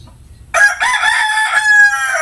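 A gamecock rooster crows once, loud and close, beginning about half a second in after a brief quiet moment. The call is a full, strained cock-a-doodle-doo that holds through to the end.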